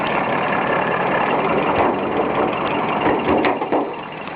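A 1957 Citroën DS 19 engine idles roughly, a steady close rumble with slight uneven pulsing that never settles into a smooth beat.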